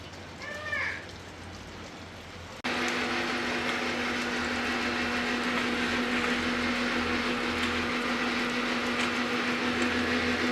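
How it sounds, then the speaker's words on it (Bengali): A kitchen mixer grinder runs with a steady, loud motorized whine and a constant hum throughout, preceded by a brief moment of voices and household sound before it switches on, with rain falling outside. "এই জন্য আজকে মিক্সারে করতেছি"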